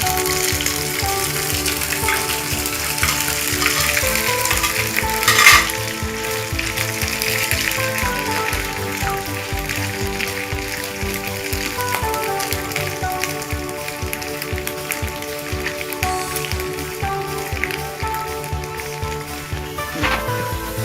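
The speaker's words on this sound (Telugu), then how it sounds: "ఆయిల్ హీట్ అయిపోయింది చికెన్ పీసెస్ వేసేసుకోవాలి" Chicken pieces for pickle drop into hot oil and deep fry, giving a loud, dense, continuous sizzle and crackle that stays steady throughout, close up and without talk.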